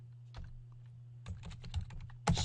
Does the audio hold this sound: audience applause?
no